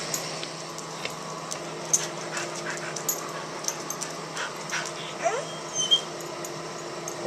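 A dog whimpers and yips in short, uneven bursts close by, with a faint hum in the background.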